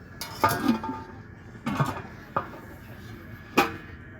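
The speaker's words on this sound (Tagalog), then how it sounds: "Mga kaserola oh." Four separate metallic clanks and clatters as pots knock together, spaced irregularly with quiet gaps, close by.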